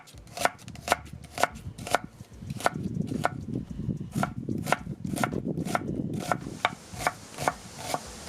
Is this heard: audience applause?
no